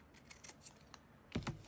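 Pinking shears cut paper around a small butterfly shape, giving a scatter of faint, crisp clicks and snips, then two louder, sharper cuts close together near the end.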